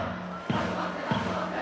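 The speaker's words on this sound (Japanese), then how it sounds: "ひときわ大きな声援が聞こえます。" A big stadium crowd in the baseball video game eBaseball Powerful Pro Yakyuu 2020, Hiroshima Carp vs Seibu Lions, cheering and chanting in a sustained roar, with rhythmic shouted beats rising about twice a second.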